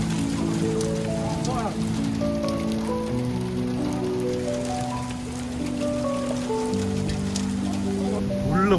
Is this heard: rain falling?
yes